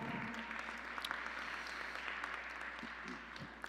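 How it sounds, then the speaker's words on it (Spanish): A church congregation breaks into sustained applause, dense broadband clapping that holds steady and fairly loud throughout, with scattered voices faintly mixed in. "Den un aplauso al Señor."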